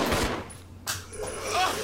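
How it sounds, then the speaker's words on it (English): Gunfire rings out in the video game Resident Evil 0, several sharp shots and bursts in quick succession, fairly loud against the game's ambient sound. "they're shooting at me"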